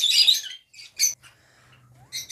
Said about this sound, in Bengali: এ হচ্ছে পাখি